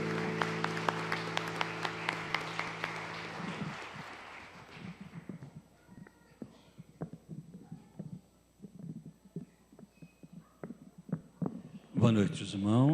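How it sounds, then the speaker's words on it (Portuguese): A church congregation claps together in brisk rhythmic applause as music fades out, the clapping continuing with scattered voices and murmurs in a large worship hall. "Aplauda o Senhor."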